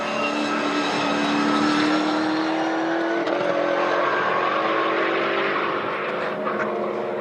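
A Mazda RX-8 time attack race car with a swapped-in LS V8 engine at a time attack event, droning steadily with a slowly shifting engine note, loud and continuous throughout with no talk.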